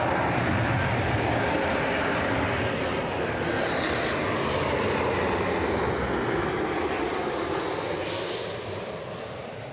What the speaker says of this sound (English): This might be a hard landing.